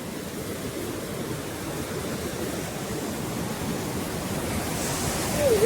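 Fast river water rushing in a broad, steady roar at close range, continuous and loud, with no talk over it.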